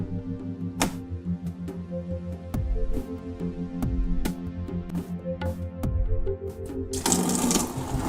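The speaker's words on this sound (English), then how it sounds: "There's about 4 quarts of coolant draining out of there now." Motorcycle coolant, about four quarts, drains from the cooling system into a tray, a steady pouring trickle with scattered drips and taps, ending in a louder, splashier rush.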